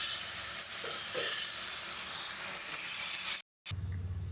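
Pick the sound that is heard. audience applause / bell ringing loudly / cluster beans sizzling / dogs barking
cluster beans sizzling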